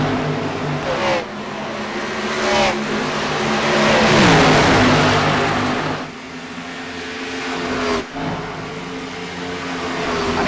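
Loud race car engines roar and whine continuously, rising and falling as the cars sweep past nearby in a steady pack on an oval track at Charlotte.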